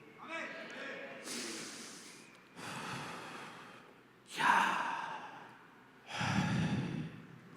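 Slow, audible breaths drawn in and pushed out close to a microphone during a church sermon, four separate breathy sighs in an unhurried rhythm.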